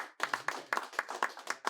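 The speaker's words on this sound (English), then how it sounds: "I love the round of applause." Applause breaks out at a Kent State football early signing day press conference, a short, modest round of clapping from a small group with distinct, fairly regular hand claps close by and no talk over it.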